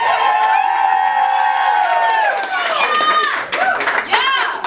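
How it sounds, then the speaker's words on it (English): A crowd at a literary salon bursts into loud, wild cheering with whoops and clapping, voices shrieking and calling out close by, the cheers wavering and tapering toward the end. "It says pause for wild applause on my script."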